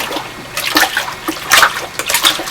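Clothes hand-washed in water inside a plastic storage bin give soft, irregular splashes and sloshes, several quick wet bursts close by over a few seconds with no talking.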